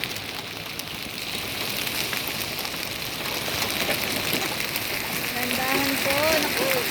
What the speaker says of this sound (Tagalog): start ng ulan